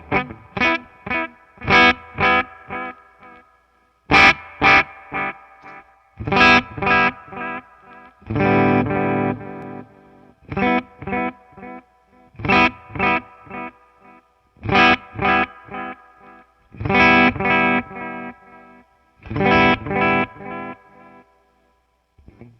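Electric guitar played through a Suhr Discovery analog delay pedal while its knobs are adjusted, heard as a series of strummed chords and short phrases, each trailed by repeating, modulated echoes that shift in character, with brief gaps between.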